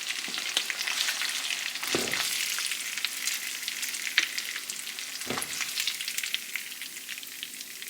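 Chicken breast frying in a pan, a steady bright sizzle throughout with a couple of brief stirring or movement sounds, close and alone without talk.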